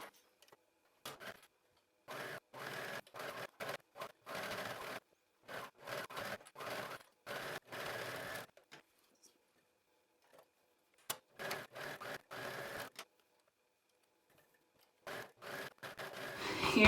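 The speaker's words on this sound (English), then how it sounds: "I'm headed to my sewing machine and I'm gonna sew, or my serger" A serger sewing machine stitches garment seams in short bursts, its rapid mechanical whirring starting and stopping repeatedly with quiet pauses between runs, heard up close without talk.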